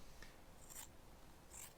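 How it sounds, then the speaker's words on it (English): Two crisp scissor snips, close and quiet, each a short bright slicing cut through soft tweed insulation fabric, spaced about a second apart. "a nice pair of scissors and it cuts absolutely great"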